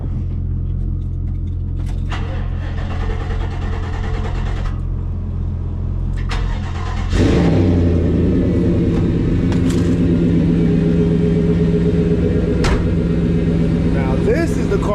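A used car's engine cranks in short bursts, then catches and settles into a steady, loud idle rumble close by, with brief clicks and knocks over the running motor.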